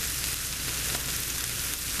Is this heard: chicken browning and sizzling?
yes